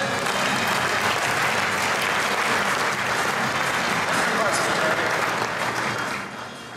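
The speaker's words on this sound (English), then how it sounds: "Neil Cook, give him a round of applause, ladies and gentlemen." An audience applauds steadily as an inventor is brought on stage at a product presentation, the clapping dense and continuous throughout before tapering off at the very end.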